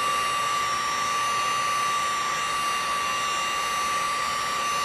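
A heat gun blows steadily to soften sticker adhesive on a boat's gelcoat, a constant close airy roar with a faint tonal whine held evenly throughout, no voices.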